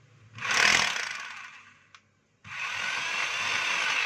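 A DeWalt D25133 rotary hammer spins up with a loud whine, winds down, gives a brief click, then starts again and runs steadily nearby.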